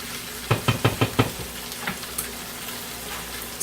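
Food sizzles in a hot pan while a utensil stirs it, giving a quick run of knocking scrapes against the pan over a constant frying hiss.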